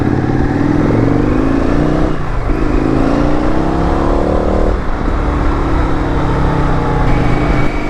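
Indian FTR x RSD Super Hooligan motorcycle accelerating hard over cobblestones, its loud engine note climbing through the revs with brief dips at gear changes, riding close and steady.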